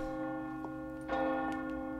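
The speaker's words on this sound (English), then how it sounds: "She rang the bell?" A bell tolls in the video game Resident Evil 4 Remake, with a soft sustained resonant tone and a brighter strike near the middle, heard alone and fairly quiet.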